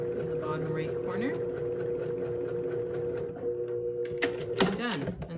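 Sewing machine running a straight stitching line across a quilt, a close, steady rapid whir with a few pauses and rattles near the end.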